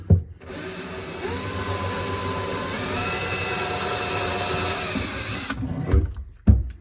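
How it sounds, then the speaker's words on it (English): A power drill whirs steadily for several seconds, its pitch shifting slightly as it bites through a wooden cabinet, then stops, followed by a couple of knocks. "Now careful not to drill through to the microwave that's on the other side"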